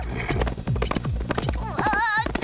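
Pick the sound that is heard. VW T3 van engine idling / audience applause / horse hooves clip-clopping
horse hooves clip-clopping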